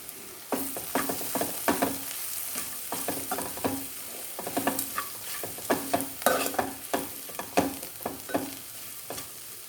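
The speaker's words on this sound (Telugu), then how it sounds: "ఒక నిమిషం పాటు కారం అంతా కలిసేలాగా కలుపుకొని మగ్గించుకున్న తర్వాత నీళ్ళు వేసుకుంటున్నాను." Chili powder being stirred into bitter gourd frying in a pan, with a steady sizzle under repeated scraping strokes of the spoon. No one speaks.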